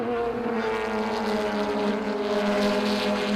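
Race cars in a Brazilian Sprint Race round at São Paulo accelerate toward a corner, a steady, loud engine drone with layered harmonic tones holding throughout.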